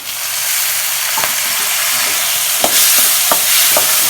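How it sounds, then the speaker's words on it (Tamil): Onion and tomato sauté in a pan for anchovy dry fish thokku, with a loud, continuous sizzle and several sharp spatula scrapes against the pan. No voices are heard. "போட்டு நல்லா வதக்கிக்கலாம்"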